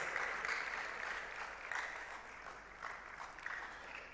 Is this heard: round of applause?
yes